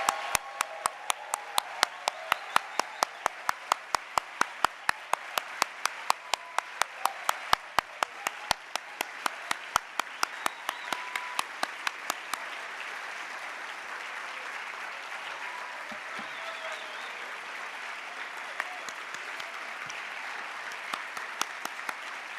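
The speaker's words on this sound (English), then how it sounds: "let's give them a round of applause for serving as the council this year" Graduating MBA students applaud their student council in a hall, starting with a few sharp, distinct claps that swell into steady, dense clapping from a large crowd and hold for about twenty seconds.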